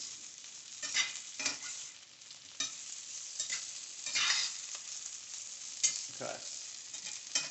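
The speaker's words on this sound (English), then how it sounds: "I'm going to mix that around, get the oil on all the pieces" Home fry potato pieces stirred in oil in a pan: quiet, steady sizzling broken by irregular scraping strokes of the spoon. Someone briefly says a word.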